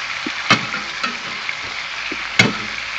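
Stuffed food frying in a pan at home, with a steady sizzle broken by a few sharp clicks and scrapes, close and fairly loud, with no talking.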